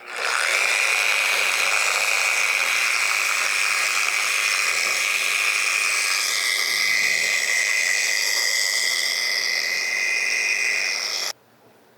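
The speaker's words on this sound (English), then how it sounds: "take a buffer wheel, put it pretty slow, and then kind of buffs it all even" A buffer wheel turning slowly over a wiped-on wood finish gives a steady, high whirring hum with a sustained tone, running continuously and loud for about eleven seconds before stopping abruptly.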